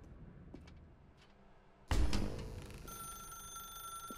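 A telephone rings in The Stanley Parable after a quiet stretch: a sudden loud burst gives way to a sustained metallic ring that lingers to the end.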